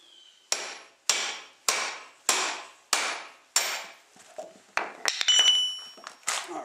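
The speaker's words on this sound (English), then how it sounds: "Let's see if we can't split this piece off here." Three-pound sledgehammer driving a big wedge into a fatwood log: sharp metallic strikes land about every half second, about eight in all, close and loud, with ringing and a split near the end.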